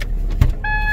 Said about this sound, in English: That's just my wife getting out of the car.